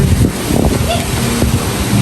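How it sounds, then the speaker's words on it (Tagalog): Strong typhoon wind during Typhoon Uwan, a loud steady roar of gusts buffeting the microphone with low rumbling and no pauses throughout. "grabe ang hangin"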